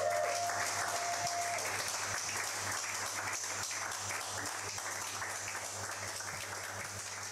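A church congregation applauding, a dense, steady roar of clapping that gradually softens slightly, with a low steady hum beneath and a brief tone near the start.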